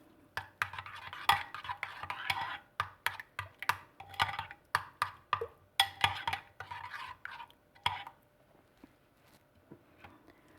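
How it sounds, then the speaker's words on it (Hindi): Mint-coriander chutney stirred into a bowl of mixed vegetable raita, a run of close, quick scraping and tapping strokes from a spoon against the bowl, fairly steady for about eight seconds and then tapering to a few light taps. "पुदीने धनिया की चटनी डाल देंगे। अच्छी तरह मिक्स करेंगे।"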